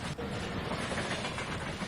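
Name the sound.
express train passing in Euro Truck Simulator 2 video game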